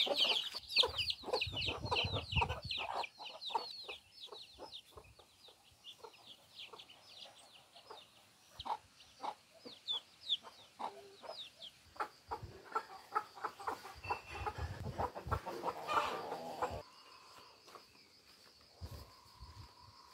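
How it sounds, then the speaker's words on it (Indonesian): A chicken clucks softly while pecking at food in a rural yard in Tutuala, Lautem, Timor-Leste, giving short, irregular clucks and taps amid insect chirps and faint bird calls outdoors. "ayam ini mengambil makanan"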